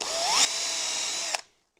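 Power drill whining up to speed and boring a pilot hole in wood for an end table, one continuous close, high-pitched run with a pitch rise at the start, stopping abruptly into silence.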